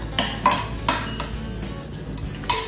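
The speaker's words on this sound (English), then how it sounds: "So you're going to stir this up real good." A spoon stirs allspice dressing in a bowl, giving a few irregular clinks and scrapes against the dish, close and fairly quiet.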